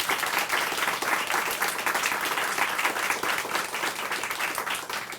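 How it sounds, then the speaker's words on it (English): Audience applause at a Howard Community College funding announcement, dense and continuous clapping from a sizable crowd, loud and even throughout, with no talking over it. "Please give her a big round of applause."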